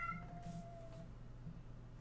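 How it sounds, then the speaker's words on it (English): A house cat lets out a single drawn-out yowl, a clear wavering cry near the start that fades out after about a second, over a quiet room hum with no talking. "Cat just decided to yell."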